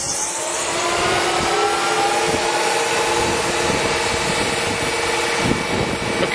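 A Kearney & Trecker 310 S-15 horizontal mill with independent power overarm runs at 2,000 RPM, a loud, steady, high-pitched mechanical whine with a dense hum, continuous throughout and with no talking.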